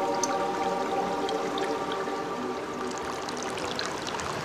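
Seawater drains and trickles out of rocky tide pools on a reef as the tide goes out, a steady close burble of pouring and dribbling water with small splashes, and no voices.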